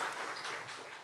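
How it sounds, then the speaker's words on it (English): Brief applause from an audience at a board of education meeting, a soft, even wash of clapping lasting about a second, heard from some distance. "I'm gonna make people give you an applause because you made everything happen"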